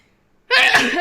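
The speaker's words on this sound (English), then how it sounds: "I might sneeze." A single loud, close sneeze bursts out abruptly after a moment of near silence and rings on for about half a second.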